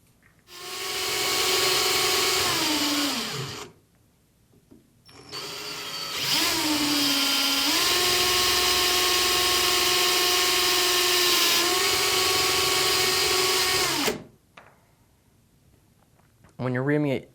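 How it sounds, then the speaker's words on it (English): Power drill reaming a cork ring fishing rod handle, a loud steady whine held for a few seconds, stopping, then running again for about nine seconds as the pitch settles, close up, followed by a short final burst. "When you're reaming it, obviously you're going to have the drill on as you go down, but you want it to be on as you pull off as well."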